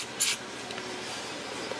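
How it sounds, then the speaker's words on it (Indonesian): A short spray burst of cleaner hits the open/close sensor inside an LG HT306SU DVD home theater under repair, followed by a steady hiss of background noise. "semprot dulu sensor open close nya ya"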